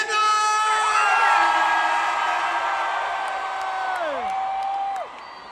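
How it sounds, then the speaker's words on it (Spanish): Loud, drawn-out Mexican grito shouts ring out from a concert crowd in Los Angeles, sustained wailing cries that fall and fade near the end. "¡Ese grito mexicano!"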